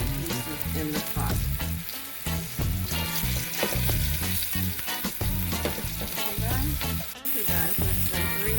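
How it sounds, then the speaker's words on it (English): Thick pork chops sizzle and spit steadily in hot oil in a pot, a loud, dense, continuous crackle with no pause and no voices. "it fry for like 3 to 4 minutes on each side because it's pretty thick"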